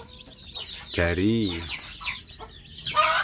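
Native village mother hen with her chicks: a close hen clucks and gives a drawn-out croaking call, mixed with short chirps, while a person talks briefly.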